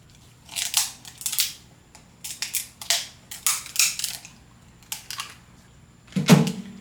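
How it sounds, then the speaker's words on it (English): A car oil filter from a turbocharged Subaru BRZ being cut open with an oil filter cutting tool, giving a series of short dry crunching and clicking bursts, then a heavier crack at the end, close up and without talk. "I do like to periodically crack my oil filters open, so that's what we're going to be doing here."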